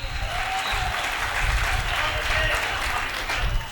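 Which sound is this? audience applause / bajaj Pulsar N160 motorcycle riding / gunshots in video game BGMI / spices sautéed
audience applause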